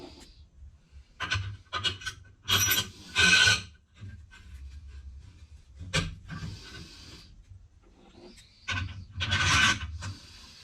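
A Dasa 1100 10mm stroker powervalve motorcycle cylinder being honed, raspy abrasive rubbing in short bursts of a second or so separated by quiet pauses, close and clear.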